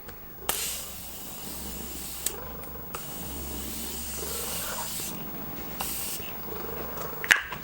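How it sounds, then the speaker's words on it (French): Morphe Continuous Setting Spray mists out in several long, close hissing bursts separated by short pauses, with faint bottle handling clicks between sprays. "Je vais utiliser mon Continuous Setting Spray"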